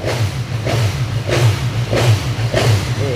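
A 2021 BMW S1000XR motorcycle engine with stock exhaust revs up and drops back four times in a steady rhythm, each throttle blip rising over a low running rumble.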